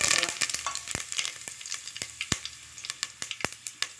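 Dried red chilies and mustard seeds frying in hot oil, giving a steady crackling sizzle broken by sharp pops and spluttering spits, with occasional stirring clicks close by.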